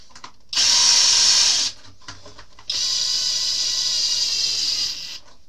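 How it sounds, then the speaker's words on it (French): Power drill driving screws into the front support of an RC car body, two close, loud whirring bursts, one short and one longer, with a brief pause between them. "Je vais venir visser le support"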